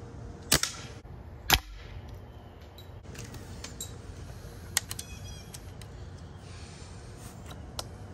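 An Umarex Fusion 2 air rifle fires outdoors, giving two sharp snapping shots early on, then several fainter ticks and a light ricochet-like crack against a quiet background hiss.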